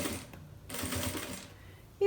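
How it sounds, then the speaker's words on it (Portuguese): Sewing machine stitching a seam down the middle of a mirrored bag, a short steady mechanical whir running close up for about two seconds. "Eu vou costurar aqui no meio, ó. Vou vindo passar aqui a costura no meio."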